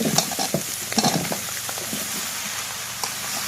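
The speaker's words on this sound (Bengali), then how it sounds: "পেঁয়াজ রসুন চিংড়ি মাছ সব কিন্তু ভালোভাবে ভাজা হয়ে গেছে" Prawns, onion, garlic and taro leaves sizzle in a hot pan while a utensil stirs and scrapes in quick irregular strokes, the frying hiss continuing steadily underneath.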